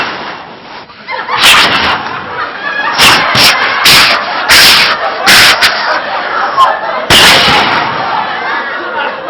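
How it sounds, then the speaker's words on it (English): Fireworks go off in a string of sharp, crackling bangs, several loud bursts coming in quick clusters over a busy background of crowd noise. "Here, you guys, you just give kids fireworks."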